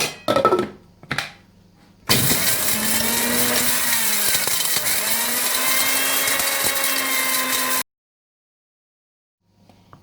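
A small electric kitchen grinder pulverising masala spices including cloves and cardamom, with a few knocks before it starts, then a loud steady whirring grind for about six seconds that cuts off abruptly into silence.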